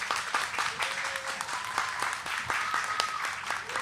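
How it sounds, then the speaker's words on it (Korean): A church congregation at a Friday night service applauds to welcome the pastor, with sustained clapping from many hands filling the room and a few voices faintly underneath. "우리 큰 박수로 환영하겠습니다."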